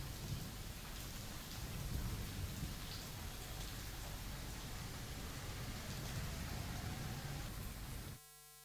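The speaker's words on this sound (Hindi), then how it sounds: "अंबाला की ये तस्वीरें हैं जहां तेज बारिश से भीषण गर्मी से राहत मिली है।" Heavy rain pours steadily in Ambala, a dense, continuous hiss with a low rumble of thunder underneath, holding at an even level throughout before cutting off abruptly near the end.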